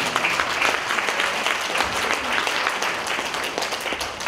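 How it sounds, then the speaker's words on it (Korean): Audience applause at a public debate forum, dense continuous clapping from a sizable crowd, fairly loud and even across the whole stretch. "여러분들이 미리 박수 쳐주시니까"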